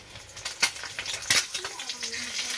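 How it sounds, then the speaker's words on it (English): An egg sizzling in a frying pan as it is flipped during a beach breakfast, with a steady frying hiss, scraping spatula and clinking pan sounds, close by, including a few sharp metallic knocks. "I'm going for the egg flip."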